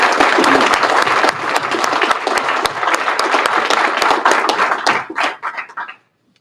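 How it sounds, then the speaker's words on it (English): A crowd at a DC Fire and EMS ceremony applauds the emergency communications branch, with loud, dense clapping that holds for several seconds before thinning to a few last claps and silence. "let's give them a round of applause."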